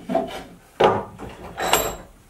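Hand plane shaving the edge of a wooden piece for DIY bench dogs, three short close rasping strokes with pauses between them.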